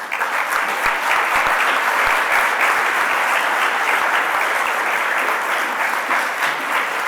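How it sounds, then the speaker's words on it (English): Crowd at a national gathering on unmarked burials in Montreal breaks into dense, sustained applause, steady and full for several seconds with sharp individual claps throughout. "Another round of applause, please."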